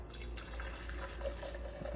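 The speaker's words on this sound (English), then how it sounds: "we're gonna measure out our hot water" Hot water pours and dribbles into a measuring container, a faint, steady liquid trickle with soft drips near the mic.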